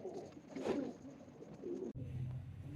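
A Rampuri pigeon of pure breed coos in a couple of soft, low rolling phrases, fairly close, over quiet room noise that shifts abruptly near the end.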